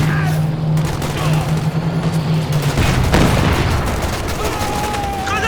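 MG-34 machine gun fire in the World War II strategy game Company of Heroes 2, a dense crackle of battle gunfire with booms and a heavy impact midway, under a busy background drone.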